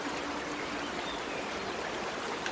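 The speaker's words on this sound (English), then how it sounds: "if that's supposed to be like water effect, then that's cool" Steady rushing flow of water in a video game, a continuous hissing stream at moderate level, alone and without breaks.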